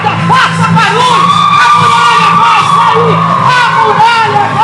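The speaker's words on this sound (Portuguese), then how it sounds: "Aplauda. Grita, faça barulho." A church crowd at a retreat service shouts and cheers loudly and continuously, with dense, overlapping voices and clapping close by filling the space.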